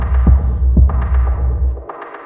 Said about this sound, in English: Oh, that's the same as this hi-hat.